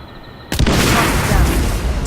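A single loud gunshot in the Hitman game booms suddenly after a brief quiet moment, then rolls into a sustained rumbling echo that fades slowly.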